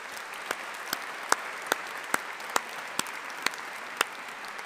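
An audience applauds graduates' families and supporters at a business school graduation ceremony, soft continuous clapping with a few sharper individual claps standing out at regular intervals.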